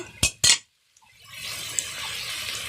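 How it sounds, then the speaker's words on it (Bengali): Water poured into a pan of Bengali fish chorchori with morola fish: two sharp splashy bursts, a short pause, then a steady rising hiss of liquid hitting the hot pan, fairly close, with no talk. "অল্প পরিমাণে জল দিয়ে দিলাম"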